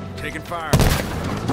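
Halo Infinite match on the Behemoth map: a short synthetic cue and voice come first, then a burst of gunfire breaks in and stays dense and loud to the end.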